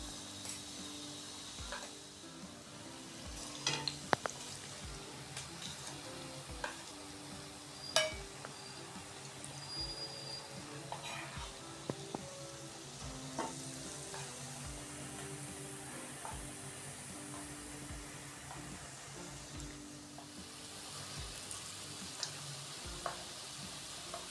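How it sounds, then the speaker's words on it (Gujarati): Batata vada frying in oil, giving a soft continuous sizzle with scattered clinks and scrapes of a utensil in the pan, fairly quiet and close throughout. "તો હવે આવી રીતના આપણે બીજા ગોટા છે એને પણ તળી લેશું"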